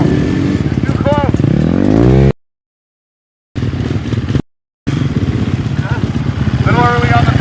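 Motorcycle engines rev and change pitch at a riding camp, loud and close, with throttle swells broken by two abrupt silent gaps and a voice calling out over them.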